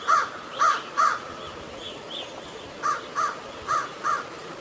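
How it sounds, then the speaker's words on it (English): Crow cawing in repeated harsh calls, a group of three followed by a pause and then four more, moderately loud against a faint hiss of background noise. "Crow, Crow means Kawa"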